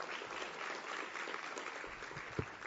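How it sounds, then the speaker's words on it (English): Audience applause at a 2013 education, economy and workforce plenary, a dense steady patter of many hands clapping for about three seconds with one sharper clap near the end. "Please give him a round of applause as well."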